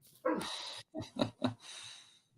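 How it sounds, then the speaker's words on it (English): A dog lets out a quick series of sharp, high-pitched barks close by, with breathy panting between them and no talking. "your high-pitched bark splitting what's left of my hearing"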